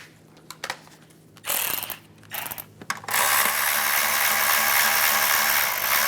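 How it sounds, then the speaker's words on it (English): A ratchet wrench tightens ignition coil bolts on a 2010-2016 Cadillac SRX, several short bursts of rapid clicking followed by a longer continuous ratcheting run, close and clear with no talking. "And we'll tighten these down."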